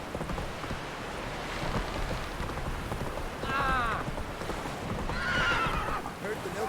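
Roach, a horse ridden in The Witcher 3, whinnies twice over steady hoofbeats and rain, with a rider's voice urging it on.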